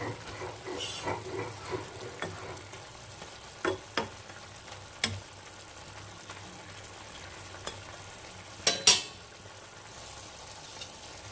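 Fried bata fish being added to a bubbling mustard-poppy seed curry in a pan, with a faint, steady simmer and soft sizzle broken by a few scattered clinks and stirring knocks.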